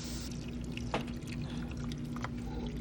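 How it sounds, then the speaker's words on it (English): Water poured into an Instant Pot holding an onion and chicken broth mixture for 13 bean soup, a steady soft splashing stream that runs evenly throughout, close by, over a constant low hum. "I'm adding another 6 cups of water"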